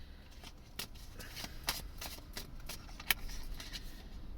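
A deck of tarot cards being shuffled: a series of soft riffling flicks and taps, close but quiet, with faint background traffic rumble.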